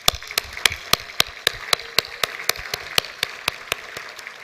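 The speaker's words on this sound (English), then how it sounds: "Give them a round of applause." At an awards dinner, sharp claps land close by in a quick, even rhythm over a softer wash of audience applause for corporate partners.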